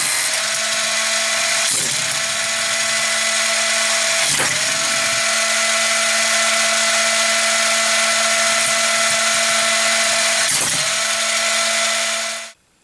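A Hot Wheels AcceleRacers Drone Sweeper launcher runs a steady, loud motorized whir with a constant pitch, broken by three brief clunks as toy cars are shot out, then cutting off abruptly at the end.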